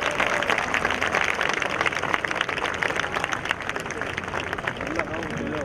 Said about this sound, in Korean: 여러분 큰 박수 박수로 환영해 주시기 바랍니다